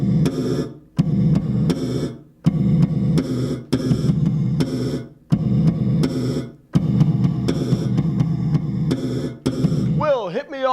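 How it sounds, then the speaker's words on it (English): Bass guitar thumps and pops played through a gated reverb effect, loud repeated bursts whose reverb tails cut off abruptly, with a short pitched slide at the end. "when you have a gated reverb or some kind of reverb"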